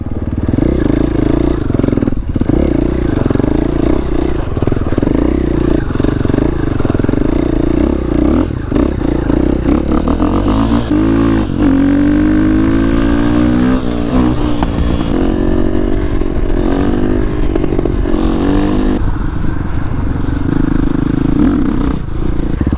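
A KTM 500 EXC dirt bike fitted with a rear hand brake is ridden off-road. Its engine runs loud and close throughout, rising and falling through repeated revs and gear changes with clattering mechanical noise.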